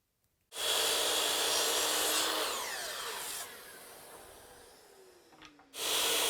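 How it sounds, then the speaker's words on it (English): A chop saw cuts walnut rails to length in a woodshop: the blade spins up sharply, bites through the wood with a loud whine that gradually winds down, then a second loud burst starts at the end. "So I'll take these over to the chop saw, I'll get them cut to length"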